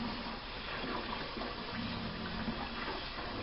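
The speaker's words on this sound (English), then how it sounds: "Just rinsing it with cool water." Cool tap water runs steadily over pork neckbones being rinsed in a kitchen sink, a continuous close splashing gush with no pauses and no talking.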